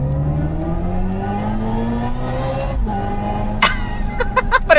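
A Hyundai Ioniq 5 N electric car in Evolution mode accelerates in third gear with a rising synthetic engine-like tone that climbs steadily, then drops as if shifting, followed by sharp clicks and bursts near the end.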